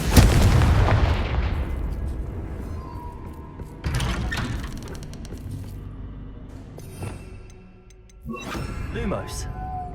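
Confringo spell blasts in the game Hogwarts Legacy: a loud booming explosion opens, followed by further bursts and crackling impacts, with a voice speaking over the effects.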